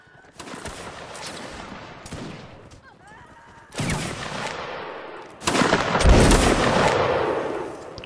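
Musket volleys crack and roll across a Mount & Blade line battle, arriving in loud overlapping bursts that swell and fade over several seconds, with distant shouting voices mixed in.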